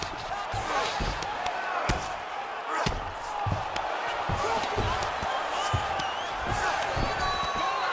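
Repeated thudding ground-and-pound punches in the UFC 4 fighting game, irregular dull impacts over a steady arena crowd roar, with commentators talking throughout.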